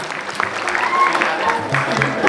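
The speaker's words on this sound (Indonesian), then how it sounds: "Tepuk tangan." Audience at a school award ceremony breaks into applause for a prize winner, a brief spell of scattered clapping mixed with crowd murmur and voices close by.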